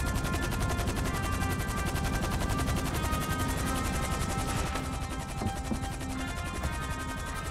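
Sustained automatic gunfire rattles through a Grand Theft Auto V heist shootout, a fast, steady stream of shots that stays loud and unbroken for the whole stretch.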